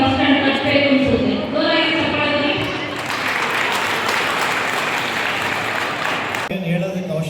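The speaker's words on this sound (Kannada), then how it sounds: "ನನ್ನ ಪೋಷಕರ ಒಂದು ಚಪ್ಪಾಳೆ" Parents at a school's first annual day burst into sustained loud clapping from a large audience, lasting several seconds after a speaker's voice and ending abruptly as speech resumes.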